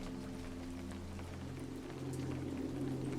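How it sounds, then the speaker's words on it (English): Soft rain falls in a quiet, steady patter with scattered drops, over a faint low hum. "The rain begins to fall"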